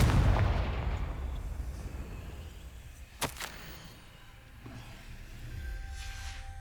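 Confringo fire spell in the game Hogwarts Legacy, a booming blast that fades into a rumbling decay, then a sharp crack and a faint whoosh against a low ambient game background.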